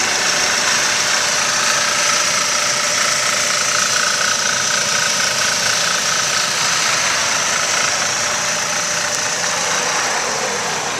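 A used car's engine cold-starts and settles into a steady idle, with belt and alternator whine and a constant mechanical clatter running unbroken and fairly loud at close range, no voices.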